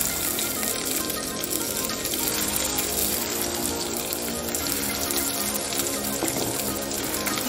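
Chopped onion hits hot oil that already holds black cumin seeds, giving a loud, continuous, close sizzling hiss with crackles that holds steady throughout.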